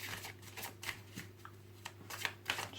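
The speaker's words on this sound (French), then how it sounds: "c'est-à-dire que je brasse les cartes" Tarot cards being shuffled by hand during a reading, a soft papery riffle of rustling bursts and slaps coming in irregular clusters, close and quiet, with a low steady hum underneath and no talking.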